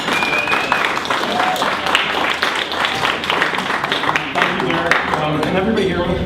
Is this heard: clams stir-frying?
no